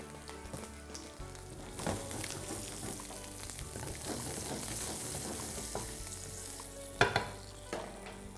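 Dried red chillies, mustard seeds, asafoetida and curry leaves frying in hot oil, giving a dense, loud, continuous crackling sizzle with spatters throughout and a sharper pop burst near the end.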